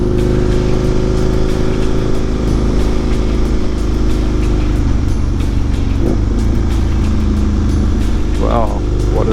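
An Aprilia motorcycle rides the Isle of Man TT course, its engine droning loud and constant from an onboard position, with wind noise and a voice talking over it.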